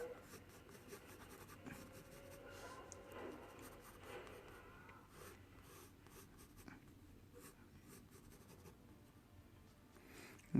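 A pencil scratches across paper while sketching a fist, soft close strokes that come and go in short bursts, quiet and alone.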